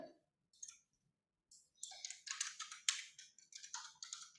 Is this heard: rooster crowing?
no